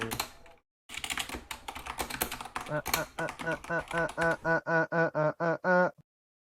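Keys tapped on a keyboard in a run of distinct clicks that speeds into an even, quacking beeping pattern near the end, with a voice speaking over the start.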